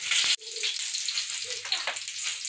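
Peppers sizzle in a hot pan with a steady crackling hiss, punctuated by a few light clinks and shuffles.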